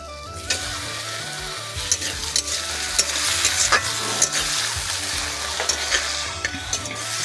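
Chopped tomatoes go into a pan of ginger-garlic paste for a river fish curry, setting off a steady loud sizzle with intermittent stirring scrapes and clatter throughout.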